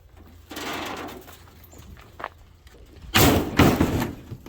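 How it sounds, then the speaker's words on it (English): A garage door is shut with some effort, with a rustle and shuffle of movement, then a louder burst of sliding and a thud as it closes, heard up close without talk. "It wasn't so much a problem getting this door to close here."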